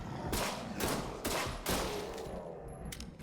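A player in the horror video game You Will Die Here Tonight fires at zombies with a handful of separate loud gunshots spaced roughly half a second apart, each with a short ringing tail, over low game ambience.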